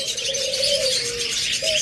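Creamino lovebirds chirp in a bird shop, giving a close, bright chatter with a drawn-out call and a brief later note over a busy background of other birds.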